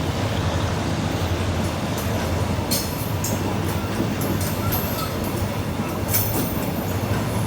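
The Thaksinarat special express train passing near Photharam station, a loud continuous rumble of rolling wheels and rail noise with occasional high metallic squeals, close by and steady throughout.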